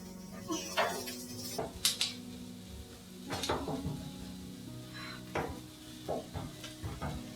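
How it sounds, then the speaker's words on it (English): Chopped onion sizzling and frying in a pan for shrimp fried rice, a steady low crackle with intermittent scrapes and clinks of a utensil stirring against the pan. "Now the onion is like almost golden"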